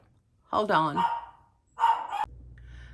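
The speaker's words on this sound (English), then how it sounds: "I'm sorry if you can hear my little Yorkie barking." A small Yorkie barks twice, high yapping bursts close by, the first a quick cluster of yips and the second a single sharp bark, with a person speaking briefly in between.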